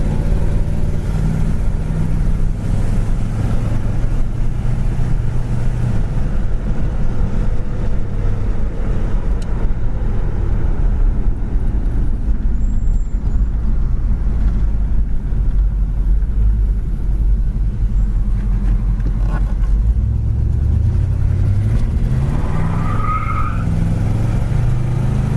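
A 1970 Chevrolet Monte Carlo rolls steadily down a road, its engine and tire rumble a constant loud low drone throughout with no talking, plus a brief rising squeal near the end.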